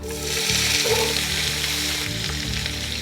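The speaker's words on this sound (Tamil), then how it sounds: "ஆனியன் நல்லா ரோஸ்ட் ஆகிடுச்சு." Onions with cinnamon, cardamom and cloves fry in groundnut oil for a mutton biryani, producing a loud, steady sizzle that swells after the first half-second, with faint stirring underneath and no talking.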